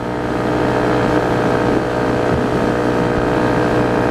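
A Honda CRF250L engine drones steadily at highway speed, about 100, fitted with 14/45 sprockets, its constant hum mixed with heavy rushing wind noise and no talking.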